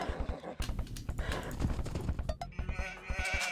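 Sheep bleats and animal sounds from a real-time strategy game, with clip-clop hoof-like taps and short bleating calls mixed among dense game effects.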